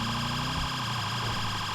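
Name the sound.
police car siren in FiveM video game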